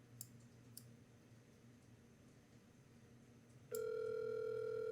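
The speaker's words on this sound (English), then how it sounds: "It's ringing." Telephone ringing through speakerphone: after a few faint clicks over a low hum, a loud, steady electronic ring tone starts abruptly near the end and holds.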